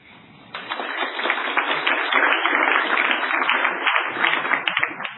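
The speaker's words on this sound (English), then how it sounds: "And I think they get a hand of applause." An audience at a company capital markets day breaks into dense, continuous applause that starts abruptly and holds steady for several seconds, heard with a narrow, muffled quality.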